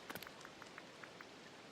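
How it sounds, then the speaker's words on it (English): Steady rain falling in the video game Disney Dreamlight Valley, a soft continuous hiss with a few light, scattered drop-like ticks across it. "Flowers are going to love this rain."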